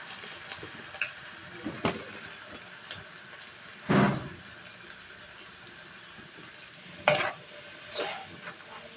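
Salted potato french fries are stirred while frying in a pan. Soft sizzling runs underneath, and several distinct scraping and stirring clatters come up close at irregular intervals, with no voices.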